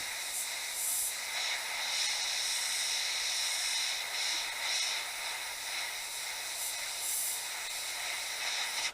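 Steady spray-can hiss runs throughout while painting a Harley motorcycle part over a template, broken by brief pulses as the nozzle is pressed and released.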